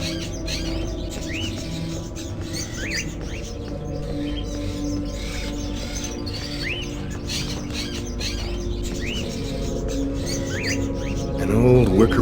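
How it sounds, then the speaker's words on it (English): Caged crows in the game Indigo Prophecy call out in repeated short chirps and squawks over a steady low hum, with a brief tonal sweep near the end. "Are those crows in the cages?"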